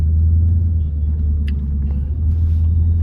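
Damaged Dodge Scat Pack engine idling with a heavy, steady low rumble close by, a brief sharper clack partway through, and no talking over the continuous drone.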